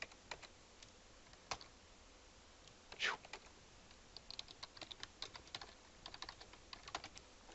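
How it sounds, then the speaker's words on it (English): Quiet, uneven typing on a computer keyboard, clusters of light key clicks with pauses between, close and faint. "Not my best typing going on there."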